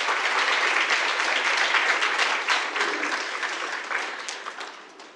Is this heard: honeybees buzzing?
no